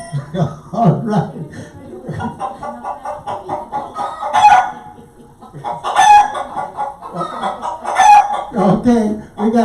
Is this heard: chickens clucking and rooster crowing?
yes